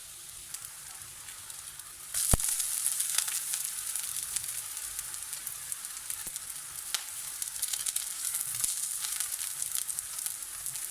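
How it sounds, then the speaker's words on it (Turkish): Eggplant slices fry in a small amount of oil in a pan, giving a steady close sizzle that jumps louder partway through as pieces are added or moved, with occasional sharp pops and no talking. "İçerisine de az miktarda bir sıvı yağ ekledim. Şimdi patlıcanlarımı az kızartacağım."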